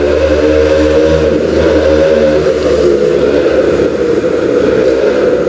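A motorcycle passes nearby, its engine a loud droning rumble that holds steady and then shifts as it goes by, with no talk over it.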